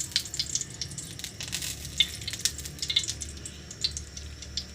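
Aromatics are sautéing in hot cooking oil in a wok, giving a steady close sizzle with scattered crackles and spits as food is stirred, with no talk.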